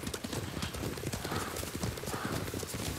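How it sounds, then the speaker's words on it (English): A horse gallops in the samurai video game Ghost of Tsushima, rapid rhythmic hoofbeats over a dense game mix with faint ambience. "when the horse gallops, right, you'll feel it in the controller as well"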